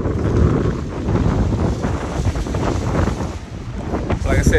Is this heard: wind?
yes